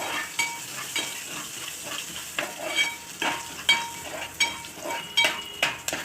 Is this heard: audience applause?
no